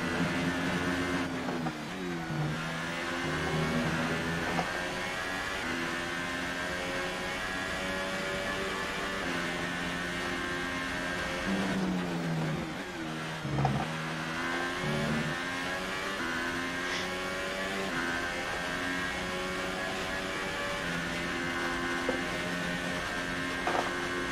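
McLaren F1 race car engine in F1 2018 at the Austrian Grand Prix, a high whining roar rising and falling through gear changes, with other cars' engines faintly passing, sustained throughout.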